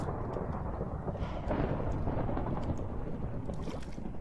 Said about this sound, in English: That's some pretty loud lightning out there.